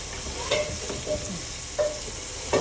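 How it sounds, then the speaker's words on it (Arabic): A spoon stirs basmati rice and spices into fried meat and onions in a pot, with steady sizzling and occasional scraping knocks against the pot, close and clear with no talk. "في بدها لحمه وبصل هن مقليين كمان يعني دغري انا حضيف لها الرز والبهارات"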